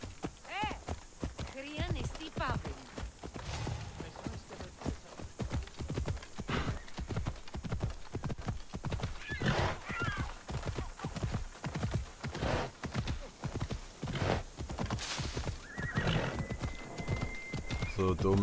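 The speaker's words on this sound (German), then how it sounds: "Und auf einmal spawnt ein Pferd!" A horse in the Assassin's Creed Odyssey video game clip-clops along with rapid, steady hoofbeats, a brief neigh rising over them, while a player talks over the game sound and other game effects.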